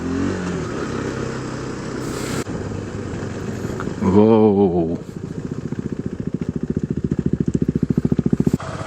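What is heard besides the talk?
motorcycle engine while riding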